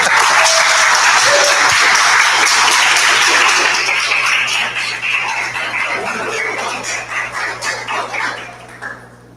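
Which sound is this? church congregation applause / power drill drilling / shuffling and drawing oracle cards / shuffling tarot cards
church congregation applause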